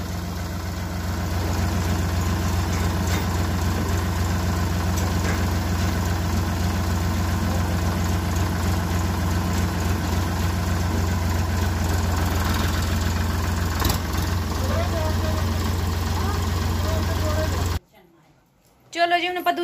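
A tractor engine on a rural Punjab farm idles in a steady, low, chugging rumble for a long stretch while voices talk nearby, before the sound cuts off abruptly near the end.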